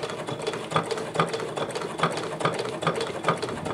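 A Brother ULT 2001 sewing machine stitches through leather with a steady, rhythmic mechanical clatter of needle strokes. The repeating pulses are close and fairly loud, and no one speaks over them.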